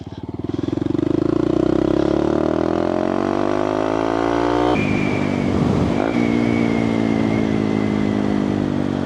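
Close and loud, a motorcycle on rural backroads in East Lothian, Scotland, accelerates with a rising engine note, shifts gear, and then holds a steady drone over wind rush.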